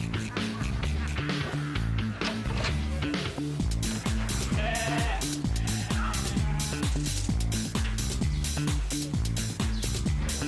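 Sheep bleating while being herded and sorted by collar chip at Hong Kong International Airport, a dense constant flock sound with overlapping calls, loud and close under steady background sound.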